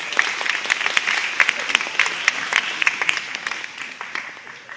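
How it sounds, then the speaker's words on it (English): Applause fills a college hall as a seated audience of students claps in a dense, steady patter, moderately loud, tapering slightly toward the end. "So give a round of applause for yourself for even being here."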